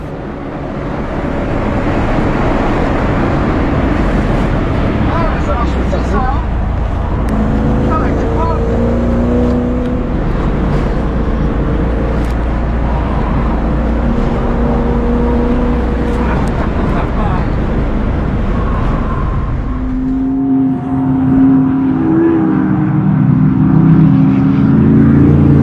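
A Corvette circuit-racing at Lurcy-Lévis, its engine roaring loud and close with a sustained drone and shifting pitch, revving up through the run before the note changes near the end.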